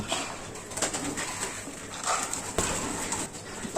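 Pigeons in a loft give soft, low cooing calls amid faint rustling and scattered small knocks, fairly quiet overall.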